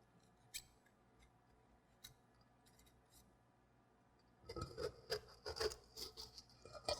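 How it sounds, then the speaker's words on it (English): Spoon scraping hardened asphalt out of a metal pan, starting as a few faint isolated scrapes, then a louder burst of rapid, repeated rasping strokes up close. "So you just want to scrape this down real good."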